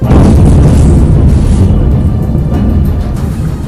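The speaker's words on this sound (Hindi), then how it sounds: "बिजली की रफ्तार से आई उस मिसाइल ने इमारत के ऊपरी हिस्से पर जोरदार प्रहार किया, जिसकी वजह से वहां भीषण विस्फोट होता दिखाई दिया।" A missile strikes the upper part of a building and sets off a huge explosion, heard as a loud, sustained rumbling roar that slowly fades away.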